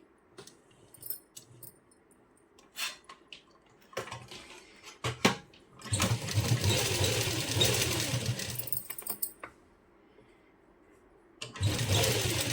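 A sewing machine stitches lace onto a puff sleeve in two sustained whirring runs, the first lasting several seconds. Quiet handling clicks and taps come before and between the runs.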